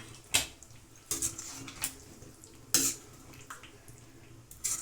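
Spoon stirring ridge gourd curry in a pot, a few sharp metallic clinks and scrapes spaced irregularly over quiet background, close and moderately loud.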